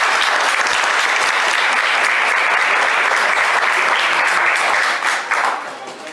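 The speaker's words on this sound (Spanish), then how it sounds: "Acaba de llegar el doctor Héctor Díaz Polanco, y lo recibimos con aplausos." Dense, sustained applause from an audience welcoming a guest at a book presentation, holding steady and loud before tapering off at the end.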